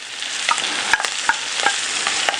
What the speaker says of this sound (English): We're going to brown it up, get it nice and seared off in our pan here on both sides.